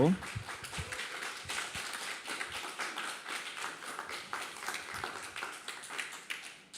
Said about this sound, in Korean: 우리 박수로 환영해 주십시오